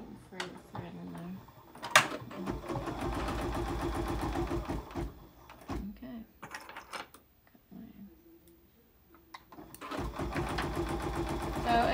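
An embroidery machine stitches the background placement line on the cherries block of a Kimberbell Sweet Land of Liberty pillow, with a steady close whirring hum that pauses briefly and restarts, while people talk over it.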